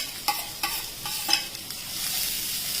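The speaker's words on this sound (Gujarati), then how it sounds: "અને બધા વેજીટેબલ્સ છે ને આપણે એમાં થોડીક વાર સોતે કરી નાખશું" Mixed vegetables with curry leaves are sautéed in a pan, a continuous soft sizzle broken by several sharp scraping stirs of a spatula, close and alone without talk.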